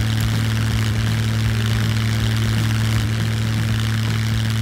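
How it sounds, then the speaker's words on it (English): A Kinglet Mariner propeller seaplane in Scum drones loudly as it takes off, its engine giving a steady low throb with a rhythmic propeller beat throughout. "especially this plane is like really heavy to take off"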